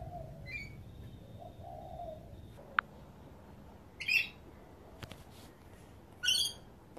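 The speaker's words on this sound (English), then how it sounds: "You may be hearing a little bird chirping around. It's just my parrot, Chippy." A pet parrot indoors gives a few short, high chirps spaced several seconds apart, faint against a quiet room with a light tap in between.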